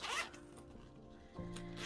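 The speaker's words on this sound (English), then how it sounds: "and we have three zippers" Zipper on a pencil case with a pink floral background being opened, a close, quiet pull with a quick rasping stroke at the start and a second scrape toward the end.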